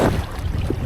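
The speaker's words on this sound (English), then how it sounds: "And wind is really gusty" Gusty wind roars across the microphone while windfoiling on open water, a rough, buffeting rush that swells and dips unevenly throughout, heavy and close.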